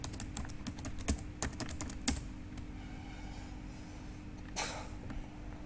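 A password is tapped out on a computer keyboard as a quick, uneven burst of quiet keystroke clicks, followed by a few seconds of near silence.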